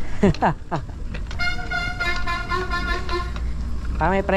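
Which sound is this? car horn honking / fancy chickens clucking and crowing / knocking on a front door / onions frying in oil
car horn honking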